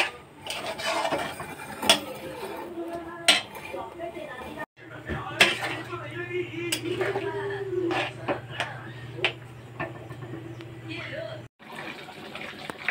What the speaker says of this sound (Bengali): আমি জল দিয়ে দিচ্ছি, বেশি জল দেব না